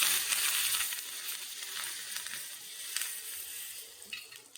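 Curry leaves with asafoetida and turmeric hit hot oil for a puffed-rice snack, giving a steady, fairly close hiss of sizzling that crackles a little unevenly throughout and fades slightly at the end; no one speaks.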